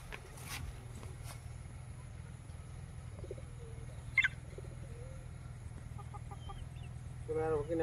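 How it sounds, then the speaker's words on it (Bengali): Parrot-beak breed chickens kept in an open field give soft, sparse clucks and short calls over a steady low hum, with a brief sharper sound midway and a louder burst of clucking at the end. "প্যারট বিকের মুরগি হচ্ছে"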